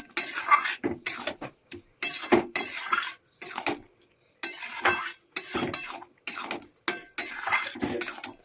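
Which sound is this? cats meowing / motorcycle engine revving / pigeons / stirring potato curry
stirring potato curry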